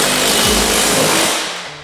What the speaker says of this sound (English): we're gonna let Julio use all the power tools